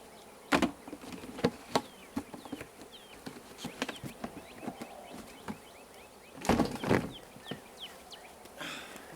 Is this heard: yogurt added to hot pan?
no